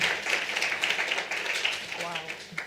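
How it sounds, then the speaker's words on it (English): A crowd at a women-in-tech meetup breaks into a short round of applause, a continuous bright clatter of many hands with voices mixed in underneath. "Let's give her a round of applause"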